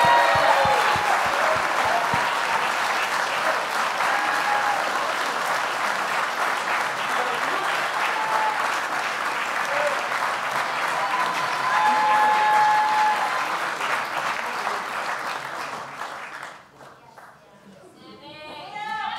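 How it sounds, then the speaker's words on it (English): A large crowd at a lacrosse award ceremony applauds steadily, loud clapping filling the room for most of the clip before easing off near the end. "Give them another round of applause and a photo."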